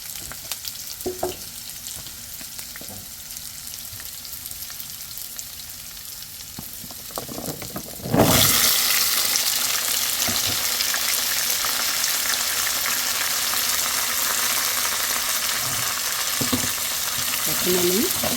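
Pumpkin pieces fry in a pan, a faint sizzle with occasional spoon taps that suddenly swells into a loud, steady, hissing fry about halfway through as more goes in, with stirring scrapes near the end.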